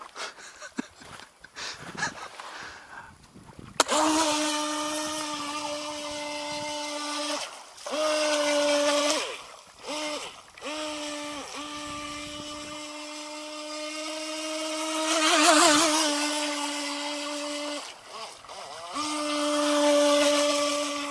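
A Skytech H100 RC boat with a small brushed motor runs on the water with a high, steady electric whine that rises and falls as the throttle is pushed and eased off repeatedly, loud and close, with no talk.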